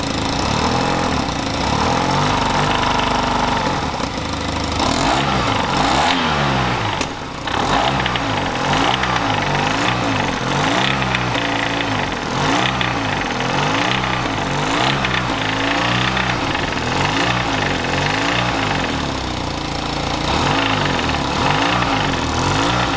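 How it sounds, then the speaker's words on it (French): A scooter engine runs steadily with a rhythmic rolling, grinding noise from a worn variator roller, close to the microphone and continuous, with slight dips in revs. "en gros, il fait un bruit de galet. Voilà, il fait un bruit au niveau du vario"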